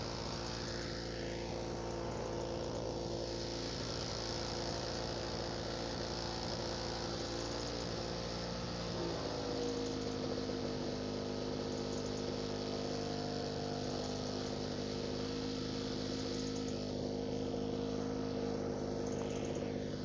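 A small portable generator powering a moth trap light runs steadily with the choke on, its engine droning loud and close, with the pitch shifting slightly partway through as it warms.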